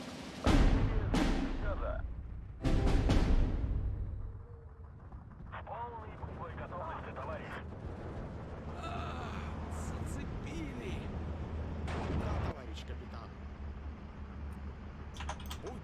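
Sharp, loud artillery impacts from counter-battery fire in the Steel Division 2 World War Two strategy game strike three times early on, with another hit later, over quieter battlefield rumble and someone talking.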